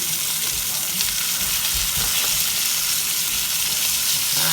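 Sausages frying in a pan, a steady loud sizzle and crackle close up throughout, with occasional soft stirring knocks and no talking.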